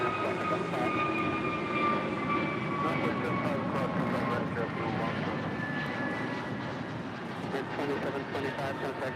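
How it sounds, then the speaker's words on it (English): An American Airlines Airbus A321neo departs LAX for Washington National, its steady jet roar and engine whine sustained at close, fairly loud level, with a voice talking over it throughout. "That is American 2725 departing to Washington National on an A321neo."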